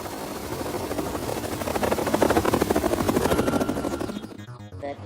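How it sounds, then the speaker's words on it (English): A helicopter swoops down during a shootout scene in The Matrix: loud rapid rotor chopping and turbine roar build to a peak, then thin out near the end, with no talking. "you forget about the helicopter coming down and shooting"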